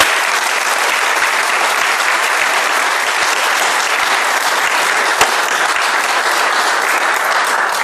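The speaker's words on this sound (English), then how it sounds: "can we just give some applause to Jean?" Warm, sustained applause from an audience at a Social Care Future gathering, full and steady from start to finish with no talk over it.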